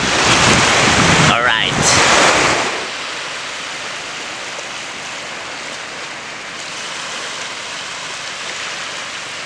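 Sea surf washing onto the shore in steady, windy rushes, loud and close with wind buffeting the microphone, while a brief voice speaks over the first few seconds before the waves continue alone.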